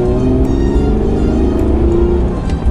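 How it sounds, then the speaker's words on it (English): Stock engine and exhaust of a Hyundai Genesis Coupe 3.8 V6, a steady, fairly loud mellow drone with a low rumble that holds level for a few seconds, with no voices over it. "my car actually sounds nice from the factory"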